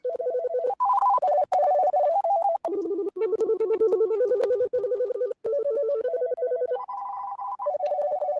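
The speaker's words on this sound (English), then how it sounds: "So ringtone, here are our options." Electronic telephone ringtones play one after another, short melodic beeping patterns shifting in pitch, clear and close with no talking.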